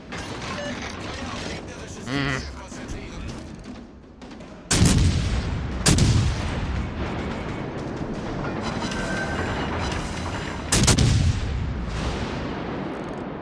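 Cruiser main-battery salvos from the München in World of Warships Legends, three loud booming volleys with long decaying tails spaced a few seconds apart over a steady bed of game battle noise, with someone talking throughout.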